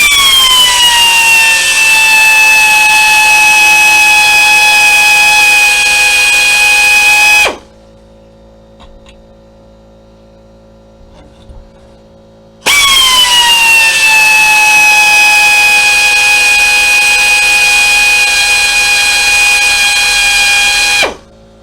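Drill bit boring into metal while drilling and tapping, a loud steady high-pitched whine for about seven seconds, a pause of near silence, then a second equally loud sustained run.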